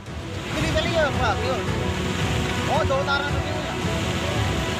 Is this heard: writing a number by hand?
no